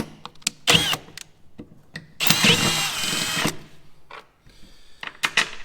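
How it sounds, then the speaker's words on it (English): A power drill bores holes with a 9mm bit while fitting out a Ram pickup as a work ute, in two loud whirring bursts, a short one and a longer one of about a second, with faint clicks and handling noises between and no talk. "So this is a 9mm drill bit instead of a, 10mm drill bit"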